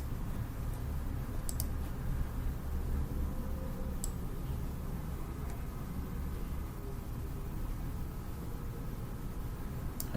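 Computer mouse clicking at a desk during PowerPoint animation work: a few sharp, isolated clicks spread over a steady low background hum, near and fairly quiet, with no talking.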